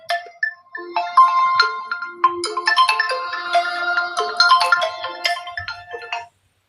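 A phone ringtone plays alone for about six seconds, a bright melodic electronic tune of repeating notes, fairly loud and close, ending abruptly.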